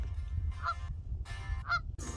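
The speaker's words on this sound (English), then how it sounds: "apparently there was a goose just hanging out down here" A goose honks two distinct times, near and clear, with short nasal calls separated by about a second, over low outdoor rumble.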